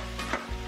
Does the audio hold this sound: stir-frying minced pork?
yes